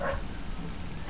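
A pig barks in the SpongeBob Truth or Square video game: one short, loud, rough dog-like bark with a whimpering edge, heard alone.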